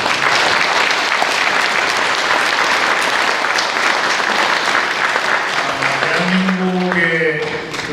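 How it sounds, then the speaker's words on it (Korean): Sustained audience applause fills a church hall at a commemorative ceremony, welcoming honored guests, dense and steady before tapering near the end as a voice begins speaking over it. "박수로 환영해 주시면 고맙겠습니다."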